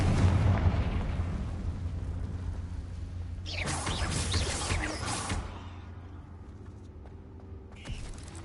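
A Confringo spell exploding in the video game Hogwarts Legacy, a loud booming burst that swells for a couple of seconds and then fades into low rumbling ambience, with no talk.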